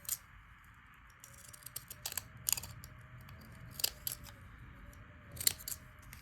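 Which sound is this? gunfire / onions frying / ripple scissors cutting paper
ripple scissors cutting paper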